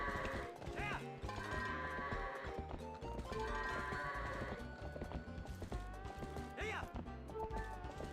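In Zelda: Twilight Princess HD, horse hooves clip-clop while goats call. Both sit under dense, loud game music throughout.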